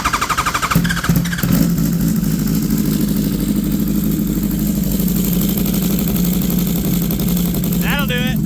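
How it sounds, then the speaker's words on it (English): A race motorcycle with a bent exhaust runs loudly at a rough, rattling idle after a sharp burst of revving at the start, with a brief voice-like squeal near the end. "this bike's had a horrendous sound, and he said it was just a bent exhaust"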